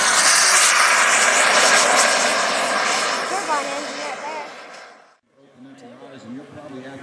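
Cessna Skymaster, a twin-engine push-pull aircraft, flying a display at an air show; a loud, steady engine roar that slowly fades until a brief quieter stretch near the end, with a commentator talking over it.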